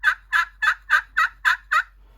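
Turkey pot call worked with a striker, producing a raspy yelp series: seven evenly spaced, loud, close calls in quick rhythm, alone with no voice.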